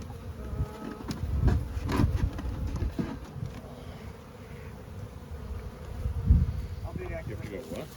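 Dense buzzing of many honey bees swarming close around a hive, steady and loud with occasional swells and bumps of handling noise.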